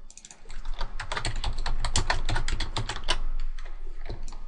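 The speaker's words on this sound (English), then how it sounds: "I have a noisy keyboard, I know." Rapid, uneven clatter of a loud computer keyboard being typed on, a steady stream of close, sharp key clicks with no talking.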